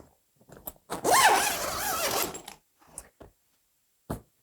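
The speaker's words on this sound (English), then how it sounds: "On the back of the tent, we have a full secondary zip door so that you can access your plants from the back of the tent." A zipper is pulled along the full secondary zip door on the back of a grow tent, one long steady zipping run of about a second and a half, close and clear, followed by a few short tugs and clicks.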